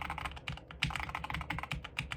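Keys are typed on the number pad of a SteelSeries Apex Pro Gen 3 gaming keyboard, a quick, close run of light clicks and clacks in an irregular rhythm with no speech.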